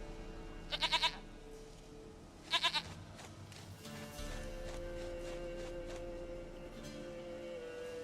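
A goat in The Witcher 3 bleats in two short, quavering bursts a second or so apart, close and distinct over a low game ambience that lingers afterward without further calls.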